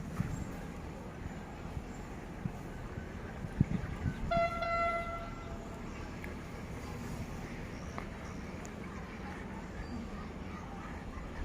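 A passenger train arrives at Ratchaburi railway station with a low rumble of rail noise and a brief horn toot. The sound stays moderately distant against the ambient noise of the station.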